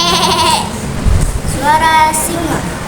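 A child imitates a goat's bleat with a short wavering voiced cry, a second bleating call following, amid a noisy classroom with other children chattering.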